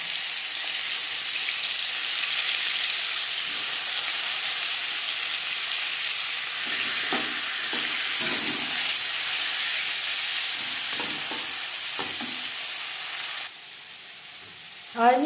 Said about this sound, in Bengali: 3 চামচ সরষের তেল গরম করে নেওয়ার পর দিয়ে দিলাম ম্যারিনেট করে রাখা মাছ।